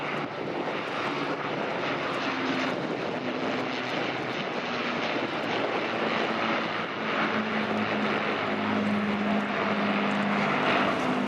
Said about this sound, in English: The Canadian Lancaster is powered by Packard Merlin and Rolls-Royce engines.